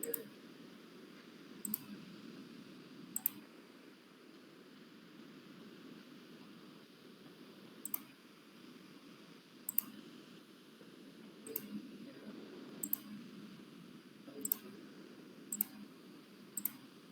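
Mouse clicks in RESCU software on a computer, a dozen or so sharp, isolated ticks spaced irregularly over a faint steady hiss and low room murmur.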